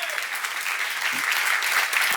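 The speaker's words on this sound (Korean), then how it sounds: "박수 하세요." Steady, dense audience applause fills a church seminar hall, continuous and fairly loud throughout with no pauses.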